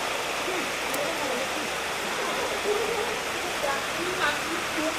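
Heavy rain pours at a rainy-day ethnic market at Lùng Phình, a dense continuous hiss and patter that fills the whole stretch, with faint voices beneath it.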